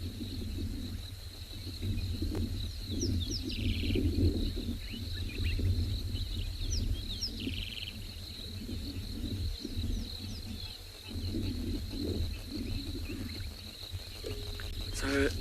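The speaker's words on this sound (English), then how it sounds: "I want you to listen to all the frogs that are calling around us." Frogs of several species call all around in the bush at dawn, a dense chorus of chirps and trills with crickets, steady and moderately near, with no talking.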